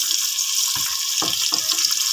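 Water poured into masala while it cooks, a short splashing trickle over steady background noise, followed by a few soft low knocks, no voices.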